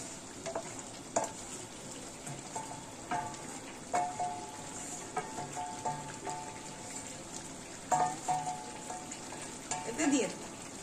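Ingredients for chicken dopiaza sizzle and fry in a pan while a spoon stirs them, with scattered light scrapes and clinks over a steady soft crackle, fairly quiet overall.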